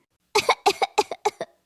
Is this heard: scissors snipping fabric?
no